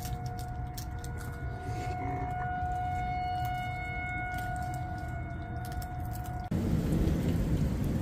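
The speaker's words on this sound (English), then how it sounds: "So the tornado sirens are starting." Tornado sirens wail during a heavy rainstorm, a steady rising tone held over loud, continuous rain that swells briefly near the end.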